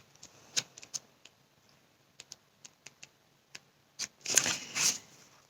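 Oracle cards shuffled by hand for a reading, scattered crisp flicks and taps building into two dense riffling bursts at the end, close and without talk.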